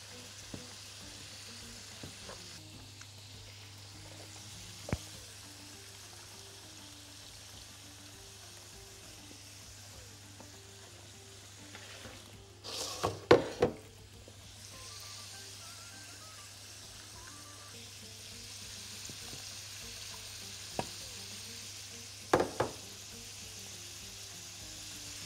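Freekeh with liver and kidneys is stirred in a pan. A soft, steady sizzle continues throughout, with a louder scrape and clatter of stirring near the middle and a couple of brief knocks later, and no talking.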